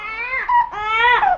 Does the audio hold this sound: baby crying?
yes